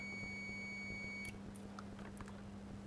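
A continuous high-pitched electronic continuity beep sounds from a Fluke multimeter, then cuts off abruptly, leaving a low background hum with faint clicks.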